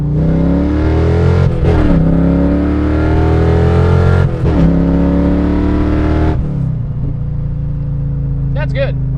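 A Corvette accelerates hard, its engine climbing through the revs with rising pitch, breaking off at two quick gear shifts before settling into a lower drone. Loud and close throughout.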